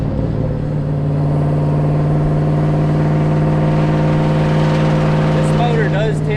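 A third-generation Chevrolet Camaro engine pulls harder than cruising on a cool day in Nashville, giving a loud, steady in-cabin drone with strong low harmonics that rises slightly toward the end.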